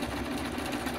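A home sewing machine runs steadily while stitching a hem on an Easter table runner, its motor a continuous, even whir that stays close and fairly loud throughout with no voices.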